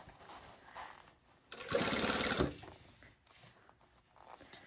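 A sewing machine runs in a short, fairly loud burst with a regular stitch length, joining layers of a garment bodice at the armhole, with quieter handling noise before and after.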